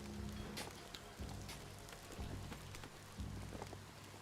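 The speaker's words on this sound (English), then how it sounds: "I don't know if I've seen rain in this game before." Steady rain falls in the video game Biomutant as a continuous soft hiss of drops on surfaces with a low rumble beneath, fairly quiet and without speech.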